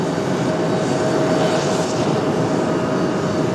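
Mountain Air Cargo ATR turboprop, a 33-year-old airframe, at Raleigh-Durham airport: a loud, steady engine roar with a faint high whine, continuous and alone.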